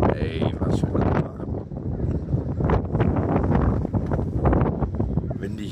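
Cold, strong wind buffeting an outdoor microphone under an evening sky, producing continuous loud rumbling and crackling gusts with no breaks.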